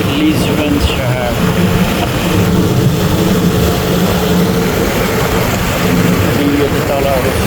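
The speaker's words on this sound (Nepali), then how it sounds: "माथि प्लेन उडिरहेछ।" An airplane flies overhead above the city of Lisbon, a steady, dense roar that holds at an even level through the whole stretch, with no clear rise or fade.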